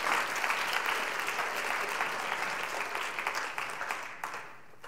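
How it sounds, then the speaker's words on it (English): A church congregation claps in praise during an Easter Sunday service, a dense, steady wash of many hands that holds strong for most of the stretch and thins slightly toward the end. "Let's give the Lord a hand clap of praise for that."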